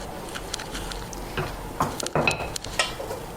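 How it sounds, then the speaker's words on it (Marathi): A wooden stick stirs thick rice flour dough for papad in a pot over a low gas flame, producing soft, irregular scraping and knocking sounds against the metal. "आता आपण एका हाताने मी घोट्या फिरवते, गॅस कमी ठेवते"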